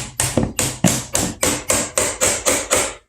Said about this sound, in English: take your putty knife and you can kind of see where you've scored it. You can kind of tap that down in there.